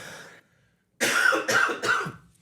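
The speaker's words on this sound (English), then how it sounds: "No, I'm just coughing." Three harsh coughs come close together right after a short pause, loud and near, each with a throaty rasp.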